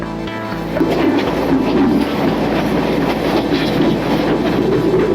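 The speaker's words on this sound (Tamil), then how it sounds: "கொழும்பு ஃபோர்ட் ரயில்வே ஸ்டேஷனில் இருக்கும் இதுதான் நம்ம போக வேண்டிய வண்டி" A train at Colombo Fort railway station rumbles steadily close by, its wheels clacking over the rails with a constant mechanical roar and faint squeals.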